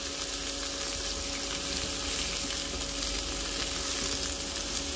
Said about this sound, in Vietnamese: Rồi xào sơ cái phần dưa hấu nụ này qua một cái cho nó thơm nha.